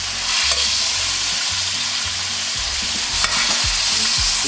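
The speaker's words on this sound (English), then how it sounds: "Basting that steak." Steak basted with melting butter in a hot cast iron pan, a loud continuous sizzle close by, with spoon scrapes and clinks against the metal and a couple of sharper spatters.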